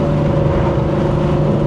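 A Ford Mustang 5.0-liter V8 with a straight-pipe exhaust and no catalytic converters, giving a loud, close, continuous low engine drone that holds steady throughout.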